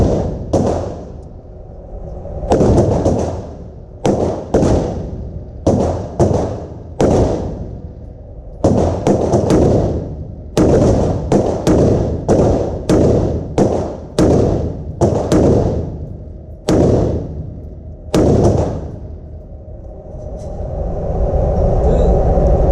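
An AR-15 pistol fired outdoors in a long string of loud, sharp reports, spaced irregularly with brief pauses between shots and some clustered pairs, close to the listener.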